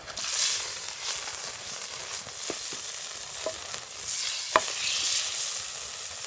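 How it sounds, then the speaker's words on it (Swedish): Butter and steak sizzle and fry in a pan over an open fire in a seaside cave, a steady close crackling hiss with a few small pops and scrapes as the food is turned. "Ja, vi steker smör."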